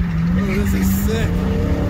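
Dodge Hellcat roaring with squealing tires on a drift ride at Springfest 14, loud and close from inside the car, while people talk and shout over it.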